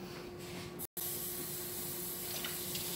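Tap water runs in a steady, fairly soft hiss over a crockpot lid during rinsing. The flow cuts out for a moment, then keeps going with no voices.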